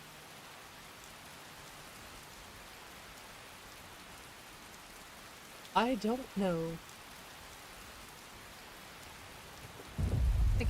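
Steady rain with storm in Skyrim's Anvil Wabbajack setup hisses softly throughout, someone speaks briefly midway, and a deep thunder rumble rolls in loudly at the end.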